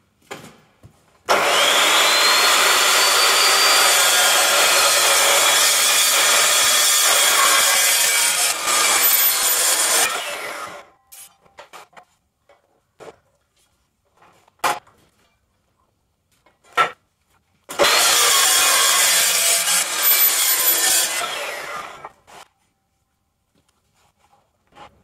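Steel box section being cut into lengths for a 4x4 chassis dyno, two long, loud bursts of harsh abrasive cutting of about nine and five seconds, with scattered clanks and quiet gaps between them and no talk.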